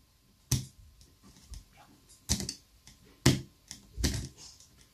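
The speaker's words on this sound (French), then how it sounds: "Le seul bruit qu'on entend, c'est le bruit de mon tournevis qui pousse l'engrenage." A screwdriver is turned by hand against the gear of a Parkside Performance PWSAP 20-Li E5 cordless 125 mm angle grinder motor, giving four sharp, separate clicks with quiet gaps between them, close up in a quiet room.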